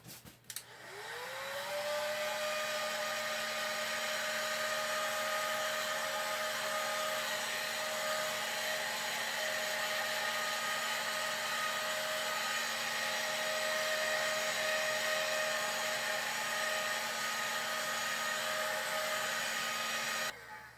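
A heat gun blowing hot air over epoxy spins up quickly and then holds a loud, steady whooshing roar with a faint whine for about twenty seconds before cutting off.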